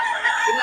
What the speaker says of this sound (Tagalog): ayan o, mga manok niya